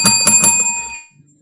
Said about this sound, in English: They get the Lambo bell.